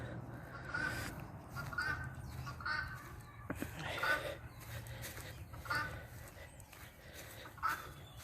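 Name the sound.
bird calling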